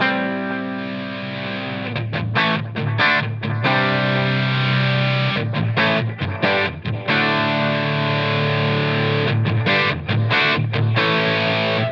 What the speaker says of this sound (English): I could blend in a little bit of the distortion pedal.